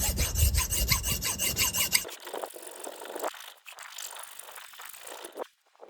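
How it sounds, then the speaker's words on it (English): A hand file rasps along the edge of a lithography stone in quick back-and-forth strokes, loud at first, then quieter, irregular scraping, ending in a brief silence. "first thing I'm going to do is use a file to file down the edges of my stone."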